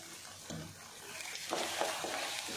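Masala being sautéed in oil for raw mango rice, a steady close sizzle with bursts of spatula stirring and scraping that grow busier toward the end.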